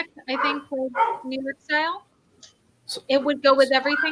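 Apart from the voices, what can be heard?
dog barking in the background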